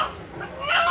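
A rooster gives a short, close cluck-like call in an outdoor setting.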